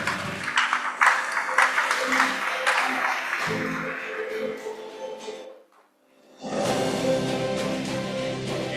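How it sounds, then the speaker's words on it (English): Audience applause for Shweta at a security industry awards conclave, a dense crowd wash that briefly dips to near silence and then swells back at full volume, with speech-like sound mixed in during the first part. "You can clap for Shweta"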